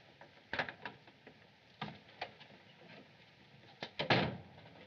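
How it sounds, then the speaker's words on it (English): Door being opened in a 1939 film scene: faint mechanical rattling and clicking of a latch and lock, a few scattered taps, then a louder cluster of knocks and clatter near the end, recorded with steady low background hiss. "Open the door."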